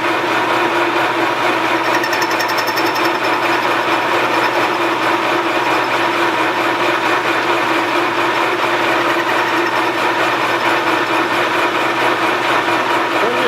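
A machine turns steadily at about 625 RPM while a light cut is taken on a bandsaw mill guide part, giving a loud, constant mechanical hum and whir with no pauses.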